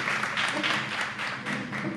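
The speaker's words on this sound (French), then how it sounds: "Nous avons le représentant de l'UNESCO qui est avec nous. Je vous demande d'applaudir." Brief burst of audience applause at a formal gathering welcoming a UNESCO representative, a continuous moderate wash of clapping at middle distance.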